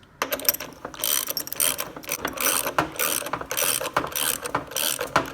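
Rapid, continuous ratchet clicking while tightening the bolt on a replacement dogbone engine mount of a Volkswagen MK6 GTI, close up, in steady bursts of strokes with brief pauses between swings.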